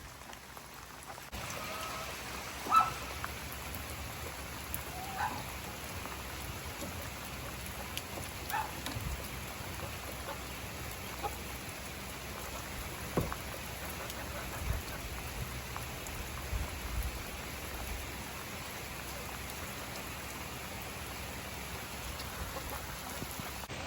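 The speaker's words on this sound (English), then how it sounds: "But chickens don't like rain." Steady rain falls on a farm, a dense even hiss of drops on surfaces with a few louder individual splats, continuous and fairly quiet throughout, no voices.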